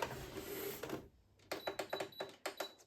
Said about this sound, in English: now I'm just going to sew and secure this in place